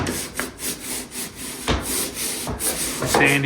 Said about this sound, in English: Instead of washing your walls, you're sanding